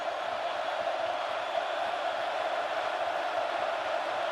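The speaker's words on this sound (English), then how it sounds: "The crowd gets on its feet." Football stadium crowd at a college game between Boise State and Oregon rising to its feet, a steady, dense roar of cheering spectators sustained evenly throughout, with no talk over it.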